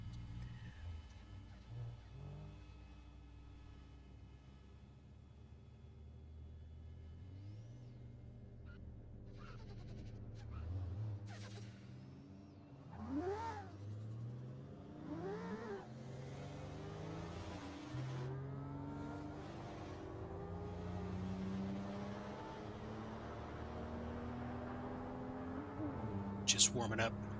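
A Porsche 930-chassis 911 Turbo engine revs in a racing video game set on the Shutoko expressway, rising and falling through the gears in repeated sweeping pulls, with someone talking over it.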